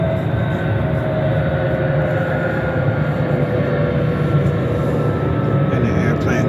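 An airplane passes overhead as a continuous low, rumbling drone with a faint whine on top, steady and fairly loud throughout.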